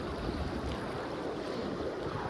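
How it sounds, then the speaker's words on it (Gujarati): Floodwater from the opened Shetrunji dam gates rushes past Sartanpar village after heavy overnight rain: a steady, loud, broadband roar of moving water, with no voices. "આજે રાત્રે ખૂબ વરસાદ આવ્યો, એના હિસાબે અત્યારે ખૂબ પાણી વહી રહ્યું છે."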